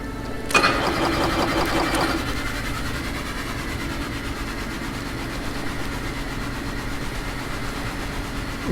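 A vehicle engine in the Stormworks sandbox game revving up as the throttle is applied, a sharp start followed by a steady, fairly loud mechanical drone that holds throughout with no talk.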